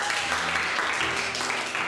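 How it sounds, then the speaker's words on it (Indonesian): Audience applause for the acting class students at a Batch 25 graduation day, a steady wash of clapping under audible voices for about two seconds. "Jadi tepuk tangan dulu dong buat teman-teman semua."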